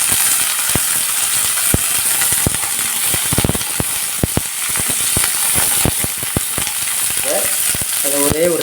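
Shallots and peanuts sizzling in a hot pan for carrot chutney, a constant close frying hiss broken by sharp clicks and scrapes of a spatula stirring against the metal.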